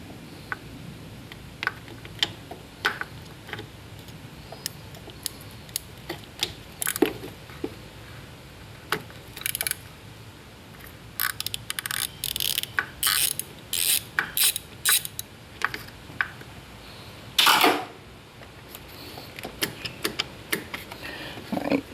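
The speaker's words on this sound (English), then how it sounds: "I'm just spinning this nut off." A wrench spins a nut off an AC line fitting on a 2007 Ford Five Hundred, producing repeated quiet ratcheting clicks in short bursts. The clicks grow denser near the middle and are followed by a sharper metallic rattle.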